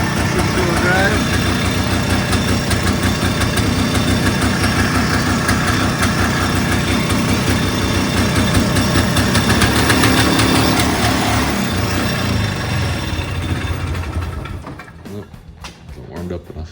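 A 1992 Polaris 250 Big Boss 6x6 ATV engine idles steadily up close, a continuous loud rumble for most of the stretch, then cuts off near the end, leaving quieter background sounds.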